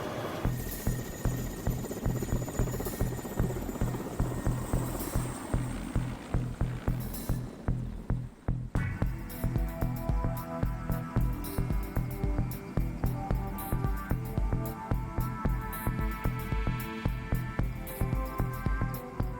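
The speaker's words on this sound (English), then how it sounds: "We board another leftover of the Soviet war machine, an Mi-8 helicopter." Steady, loud thrumming of a Soviet-era Mi-8 helicopter in flight over the Kamchatka Peninsula in the Russian Far East, with rapid, even rotor pulses throughout and a brief dip partway before the beat resumes.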